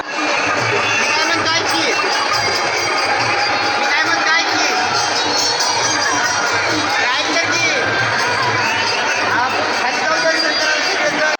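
A dense crowd of pilgrims at Pandharpur fills the air with steady babble and chatter, loud and continuous, with some voices standing out close by.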